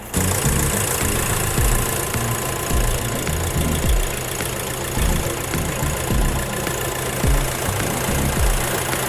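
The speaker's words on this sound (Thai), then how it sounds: "ไปฟังเสียงเครื่องยนต์กันดีกว่าว่าเป็นยังไงกันบ้าง" A diesel Nissan Navara NP300 pickup truck engine idles steadily up close, a loud, continuous rattling rumble with a regular knocking pulse throughout.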